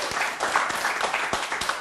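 A lecture-hall audience breaks into dense, sustained applause, many hands clapping steadily at moderate volume, with no speech over it.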